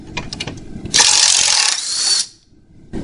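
A wrench loosens a steering bolt on a vehicle frame during stock steering removal, giving a loud, sustained ratcheting burst of about a second and a half, with lighter mechanical clicks before and after.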